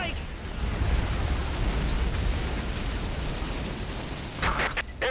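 Airstrike explosions in the video game Earth Defense Force 4.1 roll out as a dense, sustained rumble of blasts and bursts, with a few sharper bangs near the end and voices speaking over them.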